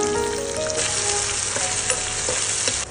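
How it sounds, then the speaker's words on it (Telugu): Green chillies and onions with a pinch of salt fry in a pan for a potato-spinach curry, a loud continuous sizzle with occasional soft stirring scrapes, no talking. "పచ్చిమిరపకాయలు, ఉల్లిపాయలు ఇవన్నీ కూడా వేసుకొని కొంచెం చిటికెడు ఉప్పు వేసుకొని వేయించేసుకుందాం"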